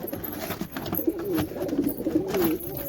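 Domestic pigeons kept in a rooftop loft coo softly in a low, rolling, continuous murmur over faint background noise, with no voices.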